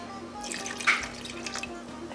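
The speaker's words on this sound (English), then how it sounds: "Now add 2 to 3 cups of water to the pot with the beef and onions." Two to three cups of water poured into a cooking pot holding beef and onions for ghormeh sabzi, a close splashing trickle lasting about two seconds with no voices.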